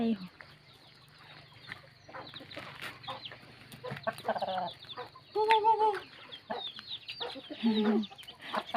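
Hens clucking in short, scattered bursts, fairly close, with a low background hum and faint rustling between the calls.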